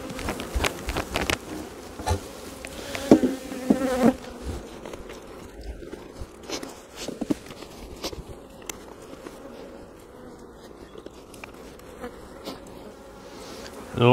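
Honey bees hum and buzz in a crowded open hive with a queenless colony, a close, steady swarm drone marked by sharp knocks and handling clicks.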